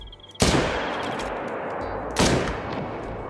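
Rifle shots fired while hunting red deer in the video game Call of the Wild: two sharp, loud reports about two seconds apart, each followed by a rolling echo, with no talk over them.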